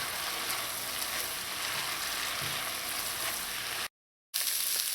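Saltfish frying in a pan as ackee is stirred in, a steady, close sizzle with faint scraping that runs continuously, briefly cutting out near the end before resuming.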